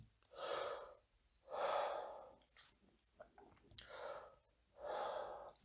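Slow, deep belly breaths drawn in and let out close to the microphone, four long airy inhales and exhales in a steady rhythm with small pauses between, during a back pain relief exercise.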